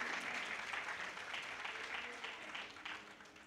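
Congregation applause during a church sermon, a sustained wash of many hands clapping that fades slightly toward the end.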